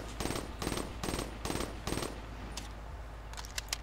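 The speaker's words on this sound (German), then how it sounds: "Ich schieße jetzt die M8A7 kurz leer." Five evenly spaced bursts of M8A7 rifle fire in Black Ops 3, each a quick cluster of loud sharp shots, followed by softer clicks and mechanical clatter as the gun runs empty.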